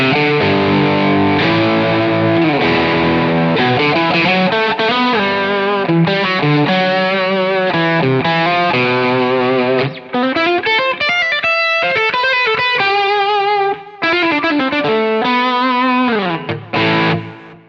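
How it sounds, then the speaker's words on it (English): Distorted electric guitar played through a Quad Cortex, with an LPD87 boost driving a Marshall amp model on the normal channel: loud, continuous melodic riffing with bends and sustained notes, bright top-end bite and no talking. "if we switch then to the combination of the LPD87 with the Marshall on the normal"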